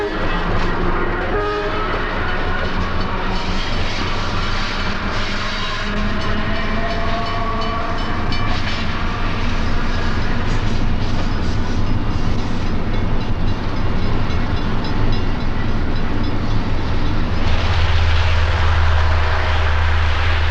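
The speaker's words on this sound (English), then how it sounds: "With its work finished, the locomotive heads east light to Gary, Indiana." A South Shore interurban railway locomotive running light, its steady rumbling engine and rolling noise continuous and fairly loud throughout, with a heavy low drone building near the end.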